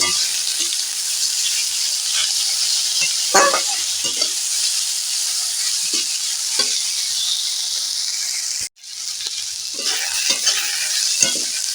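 Garlic paste frying with mango pieces in a pan for a rohu fish curry, a loud, constant sizzle with scattered scraping stirs; the sound cuts out for an instant partway through, then resumes.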